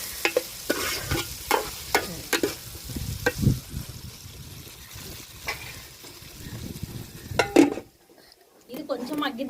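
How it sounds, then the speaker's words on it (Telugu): Capsicum cooking in oil in a village-style pan, with sizzling, repeated stirring scrapes and clinks of utensil on metal, close by, stopping briefly near the end before resuming. "క్యాప్సికమ్ ఇది కొంచెం నూనెలో మగ్గని."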